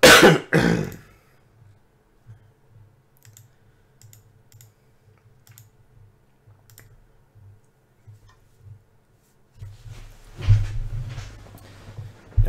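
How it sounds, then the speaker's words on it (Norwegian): A man coughs and clears his throat close to the microphone, once at the start and again near the end, with faint clicks and near silence in between. "Jeg skal prøve å snu meg bort fra mikrofonen når jeg hoster."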